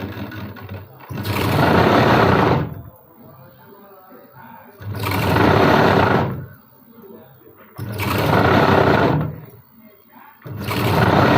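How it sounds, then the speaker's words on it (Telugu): A sewing machine double stitches the lining of a blouse in four long, loud bursts of fast whirring, each separated by a few quieter seconds. "తర్వాత డబుల్ స్టిచ్చింగ్ మళ్ళీ వేసుకున్నాము."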